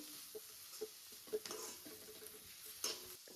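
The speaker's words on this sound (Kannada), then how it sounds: "ಸ್ವಲ್ಪ ಕರಿಬೇವು ಹಾಕೋತೇನು. ಈಗ ಚೆನ್ನಾಗಿ ಫ್ರೈ ಆಗಬೇಕು." Curry leaves frying in a pan for instant dosa batter, with soft sizzling and stirring scrapes and a few light clinks of utensil against pan, close and fairly quiet.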